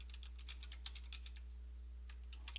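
Computer keyboard typing while entering an email address, a quick series of light clicks with a short pause, fairly close over a steady low electrical hum.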